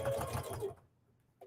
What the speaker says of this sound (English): Take your time with my sewing machine.